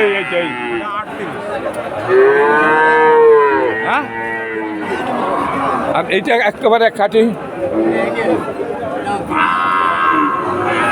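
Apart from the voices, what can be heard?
calves mooing at Udaypur cattle market, Bagerhat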